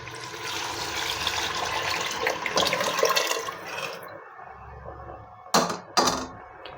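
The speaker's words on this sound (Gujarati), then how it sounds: "તો હવે આપણે જે બાફેલું પાણી છે તે એડ કરીશું" Boiled water pours steadily into a pot of mutton chap masala for several seconds, then stops, followed by two short clanks.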